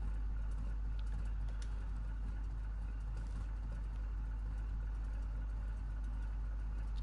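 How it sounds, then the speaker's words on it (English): A truck engine idles in the SnowRunner video game, a steady, faint low drone with an even rumble and no talking over it. "noise that truck makes on tick over, it sounds like the Jumanji drums"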